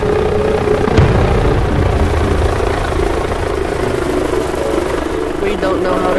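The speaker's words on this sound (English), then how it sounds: "I'm in the helicopter" A helicopter flying in the VRChat video game gives a loud, constant rotor and engine drone throughout, close and unbroken, with people's voices mixed in.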